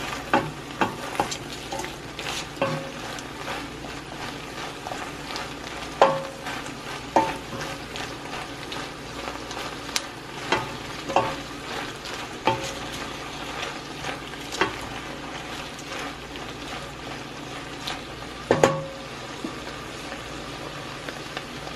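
Chopped celery, carrot and tomato sizzle steadily in a frying pan while a utensil stirs and scrapes through them in repeated strokes, up close with no talking.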